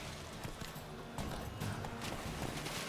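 Horse hooves clip-clop steadily in The Witcher 3 on PC, a moderate, even gait over a dense bed of ambient game sound throughout.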